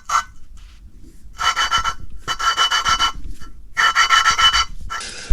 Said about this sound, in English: So we got the valves lapped up on that chamber.